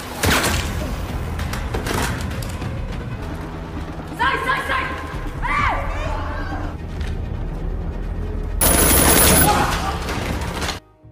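Gunfire and explosions in a film shootout at a factory, with dense bursts of shots, booms and mechanical clatter, an Indonesian narrator speaking over much of it, ending in a loud sustained blast.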